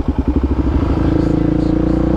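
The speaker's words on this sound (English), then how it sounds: "Motorcycle cop." A police motorcycle engine runs loudly at close range, starting with a throbbing, pulsing idle and settling into a steady, even rumble, with voices shouting over it.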